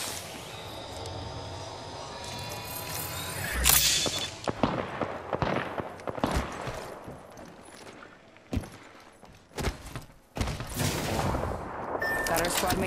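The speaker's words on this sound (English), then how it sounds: "Firing on subjects." Gunfire in the battle royale game Apex Legends: rapid bursts of automatic shots crackle in irregular volleys, loud and close, over a steady bed of game ambience.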